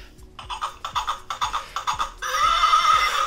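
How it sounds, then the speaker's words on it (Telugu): A horse neighs in a rapid series of about eight short whinnies, then gives a longer, higher drawn-out call, close by and clear with no talk. "ఇదిగో ఇదిగో గుర్రం"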